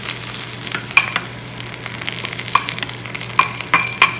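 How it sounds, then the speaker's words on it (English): Almonds sizzle in a pan after squeezed lemon juice is poured over them, giving a steady, close hiss of frying with scattered sharp pops and crackles. "You hear that sizzle?"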